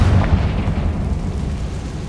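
Explosive Confringo spell blasts in the video game Hogwarts Legacy, a loud booming burst at the start with a heavy low rumble that lingers and decays over the following two seconds, no voices.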